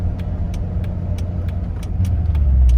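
A C5 Corvette pulls away after a clutch dump, its engine droning loud and close with regular ticking clicks, the low rumble swelling in strength toward the end.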